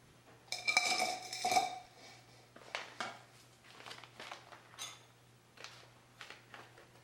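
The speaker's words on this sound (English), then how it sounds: "just mix the coconut flakes into your flour mixture" Coconut flakes are stirred into a flour mixture in a bowl, with a utensil scraping and clinking against the bowl in an uneven rhythm, loudest in the first couple of seconds and then softer, close up with no talking.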